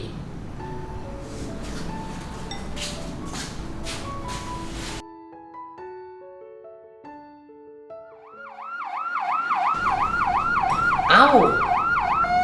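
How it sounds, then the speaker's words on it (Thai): An ambulance siren wails nearby, its rising and falling tone cycling rapidly and growing louder, preceded by a stretch of street noise. "รถพยาบาลมารับใครเนี่ย"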